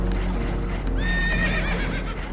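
A spooked horse whinnies in Red Dead Redemption 2 aboard a leaking boat, one sharp, wavering neigh over a steady low rumble, with faint hoof clatter and muffled voices nearby.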